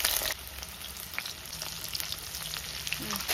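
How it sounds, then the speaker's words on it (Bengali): Diced potatoes fry in oil with salt and turmeric over a low flame, giving a close, steady crackling sizzle with brief stirring sounds. "হালকা আঁচে ভালো করে আলুটা ভেজে নেব"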